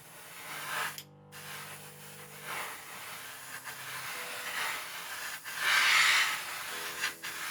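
Airbrush spraying paint onto a plastic model airplane kit, a soft airy hiss in short passes of varying strength, one brief gap near the start and a stronger burst later, with steady background noise.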